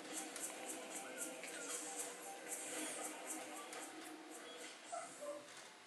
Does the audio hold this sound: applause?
no